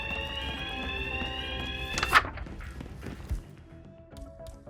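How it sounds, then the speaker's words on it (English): Fire alarm ringing in the video game Hitman, a sustained electronic alarm tone that cuts off partway through, followed by scattered thuds and footstep-like knocks in the game scene. "I decided to pull the fire alarm, just to add a little excitement and trigger another round of chaos."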